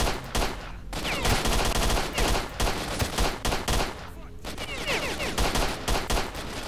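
Rapid bursts of gunfire in the video game S.T.A.L.K.E.R.: Shadow of Chernobyl during a firefight at a junkyard, with loud, dense volleys repeating throughout and a voice heard faintly under the shooting.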